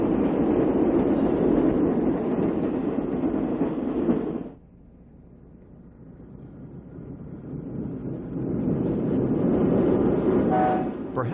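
A westbound Twilight Limited diesel passenger train from 1955 rumbles loudly past, drops briefly to a quieter lull, then swells again with rolling wheel noise and a faint horn toot near the end.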